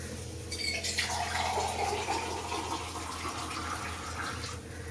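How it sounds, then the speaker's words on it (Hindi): Water is poured into a kadhai of water chestnut flour halwa with the gas flame off, giving a steady trickling, splashing pour at close range with a low background hum. "गैस का फ्लेम बंद करके इसमें पानी डाल के इसको अच्छे से मिला लेते हैं।"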